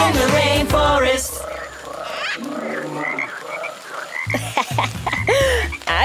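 Frog croaking in a rainforest during rain, a loud, close run of repeated rhythmic croaks and calls that continues through the whole stretch with no talking.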